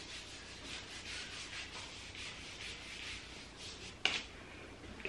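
Soft, steady rubbing of self-tan lotion into the skin of the forearm and wrist, a close, quiet swishing friction in quick repeated strokes, ending with a small tap.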